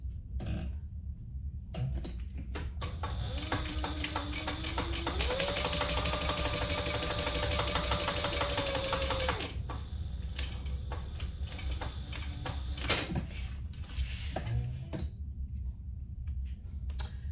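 A sewing machine stitches across a small tag on a homemade Rosie baby sling, a steady mechanical run of rapid needle clatter lasting several seconds with a brief change in pitch midway, then stopping, with handling noises around it.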